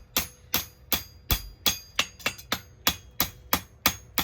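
A hammer strikes a hot steel bar on an anvil about a dozen times in a steady, evenly spaced rhythm, each blow a sharp, ringing clang heard up close.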